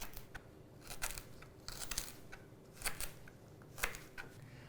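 A knife thinly slices kale stems on a cutting board, making a quiet series of crisp, evenly spaced cuts about once a second, faint and close with no talk.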